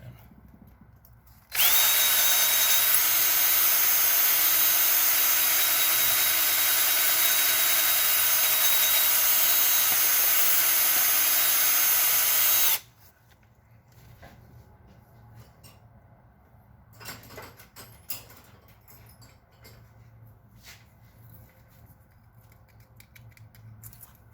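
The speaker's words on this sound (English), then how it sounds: "Let's try this 1/4-inch drill then." A 1/4-inch drill runs in one sustained high whine for about eleven seconds against quiet surroundings, working in a 2003 Toyota Tundra 4.7 V8 engine, then stops, leaving faint clinks.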